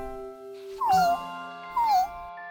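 A cartoon monkey imitates a cat with two drawn-out, high, tonal meows, one after the other, over a soft musical backing.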